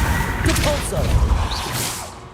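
Repulso spell cast in the Hogwarts Legacy video game, a broad airy whoosh with a thumping low burst amid game combat, lasting about two seconds at steady loudness before trailing off.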